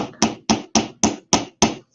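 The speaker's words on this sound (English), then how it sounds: "and hammer it down" A small hammer strikes a rivet resting on a steel bench block in jewelry-style bead work, six sharp metallic blows at an even pace, close and loud with quick decays.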